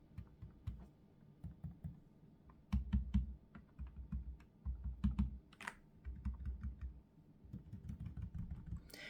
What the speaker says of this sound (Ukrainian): просто постукаємо по різних місцях корпусу даної клавіатури